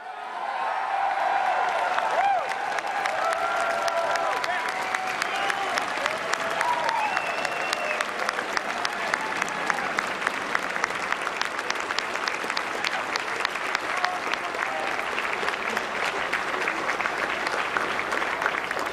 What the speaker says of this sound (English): Can everyone give these candidates another round of applause?